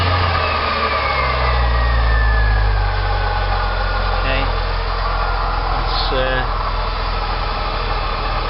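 A 2001 Porsche Boxster 986 engine running steadily while the air con compressor clutch engages, a constant close engine drone with a brief click partway through and someone talking over it.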